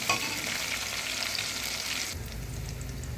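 Onion and whole spices such as star anise frying in hot oil for cauliflower soup, a loud steady sizzle that drops abruptly to a softer crackle partway through as more goes into the pan, with no talking.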